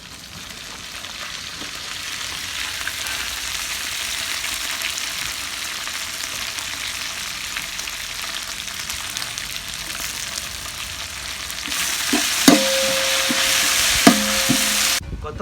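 Coriander, mint and green chillies fry with onions in a pot for country chicken biryani, a steady sizzle that swells louder near the end, with a few sharp clinks of a stirring spoon.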